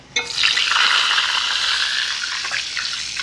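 Hot rendered pancetta fat pours and sizzles out of a frying pan in a steady hissing gush that starts abruptly and continues for a few seconds, close and loud with no talk.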